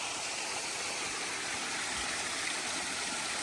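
Water from a waterfall at Moore Cove in Pisgah National Forest, North Carolina, rushes in a steady, close, unbroken roar.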